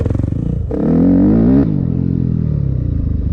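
A Yamaha WR250F dirt bike with a rebuilt, rejetted carburetor revs hard from a rough idle, holds a high, steady roar for about a second, then drops back to a lumpy idle without bogging, close and loud.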